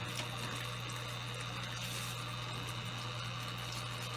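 Water runs steadily from a hose into an aquarium, a continuous close rushing wash with a low constant hum beneath, unbroken and without speech.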